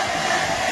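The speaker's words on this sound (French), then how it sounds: "tu gonfles un matelas gonflable avec un... avec un sèche-cheveux" A hair dryer blows steadily into an inflatable air mattress up close, giving a continuous loud whooshing airflow with no break across the short stretch.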